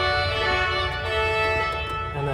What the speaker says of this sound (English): So the trumpet sounds like this.